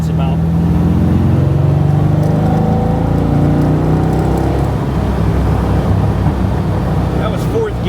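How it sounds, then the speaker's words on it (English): A 1980 Chevrolet Corvette restomod with an LS3 V8 accelerates in fourth gear, its loud exhaust rising in a steady climbing drone, with faint talk in the cabin. "you want to hear the exhaust anyways"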